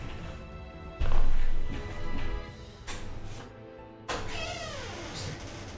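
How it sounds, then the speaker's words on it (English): A cat meows repeatedly at a door, trying to get in, with thumps and knocks between calls; the cries come in several bursts, the last one drawn out and wavering, fairly close. "I hear a kitten trying to get in."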